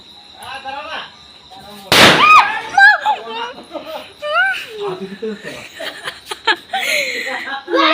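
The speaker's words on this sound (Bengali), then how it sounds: "বাজিটা এতটা আওয়াজ হয়েছে, মানে সত্যি কান মান একদম বন্ধ হয়ে গেছে" A firecracker goes off with one sharp, loud burst at a Diwali celebration at home, followed by laughter and excited chatter from people close by.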